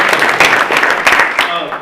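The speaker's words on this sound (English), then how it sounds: "Let's give you another round of applause." Audience applause at an amateur radio club meeting, with short bursts of clapping from a modest crowd mixed with voices talking over it.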